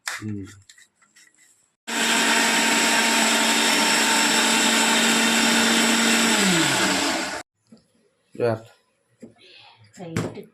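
A mixer grinder whirs loudly and steadily for about five seconds as it grinds onion and green chilli into paste, then cuts off abruptly. Someone talks briefly before it starts and again after it stops.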